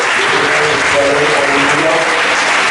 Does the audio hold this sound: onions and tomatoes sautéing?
no